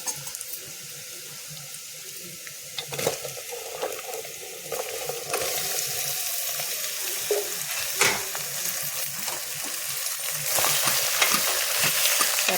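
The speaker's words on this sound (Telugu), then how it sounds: "సొరకాయ ముక్కలు వేసి మొత్తం నూనె అన్ని ముక్కలు కంచేటట్టు కలపాలి." Bottle gourd pieces frying in oil with lentils, stirred in a pan, giving a steady close sizzle with occasional scraping clanks of the spoon that grows slightly louder toward the end.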